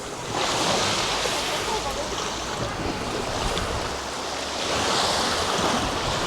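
Ocean waves wash onto a beach in Dubrovnik, Croatia, a continuous broad rushing surf that swells and recedes, mixed with wind noise on the microphone.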